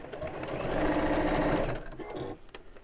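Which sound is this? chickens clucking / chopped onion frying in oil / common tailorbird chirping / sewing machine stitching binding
sewing machine stitching binding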